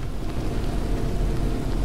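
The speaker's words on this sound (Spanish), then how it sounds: "¿Ya está lloviendo?" Rain falls in the video game Dead Island, a steady, dense hiss of rainfall with low rumbling beneath, continuous and fairly loud throughout.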